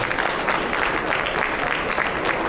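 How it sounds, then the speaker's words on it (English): Steady audience applause at an annual get-together award ceremony, a continuous dense patter of clapping held at an even level throughout, with a faint murmur of voices underneath. "please give a round of applause"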